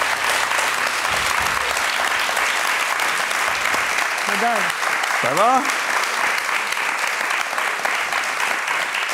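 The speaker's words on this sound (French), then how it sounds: "on peut applaudir" Audience at a stage hypnosis show applauding continuously, a broad steady wash of clapping with brief spoken words from a man on stage over it.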